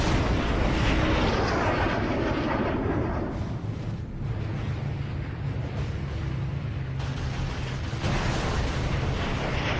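Wartime B-17 bomber in air combat, its engine blowing apart: a loud, sustained broadband roar and rumble like aircraft noise mixed with explosive blast, dense and continuous throughout with no voices.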